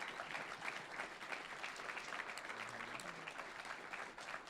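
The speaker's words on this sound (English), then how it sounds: "We get a huge round of applause from everybody from this" A large crowd applauds at the finale of a charity gaming event, giving dense, steady clapping that fills the whole stretch with no break, loud and close, with no voice standing out.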